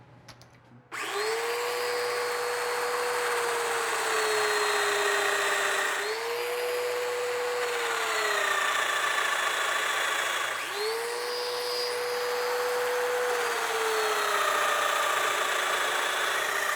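A domino joiner cuts tenon slots for 8x40 dominoes in chair parts. The motor whines steadily and loud throughout, and its pitch dips briefly at three points where the cutter plunges into the wood.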